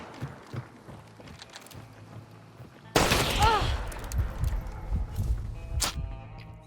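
A single loud shotgun blast in Hunt: Showdown cracks out mid-scene and rings with echo, preceded by quieter clatter and movement and followed by fainter scattered sounds and another distant shot.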